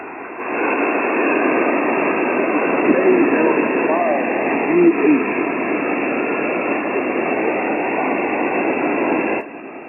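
Ham radio static hisses steadily, with a faint signal briefly rising and fading within the noise under poor atmospheric conditions.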